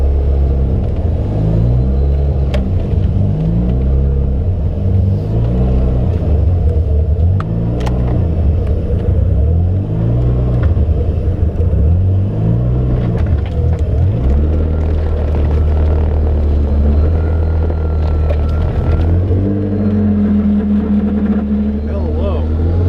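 A 1988 Mazda RX-7 with an aftermarket flywheel and clutch drives on a test drive, its engine note rising and falling in repeated sweeps through the gears, loud and close from inside the car.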